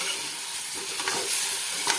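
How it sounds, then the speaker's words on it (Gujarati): A spoon stirs a leftover-rice snack with tomato sauce in a frying pan, giving a soft continuous sizzle with light scraping strokes. "તેને પણ આપણે નાસ્તાની સાથે સારી રીતે મિક્સ કરી દઈએ."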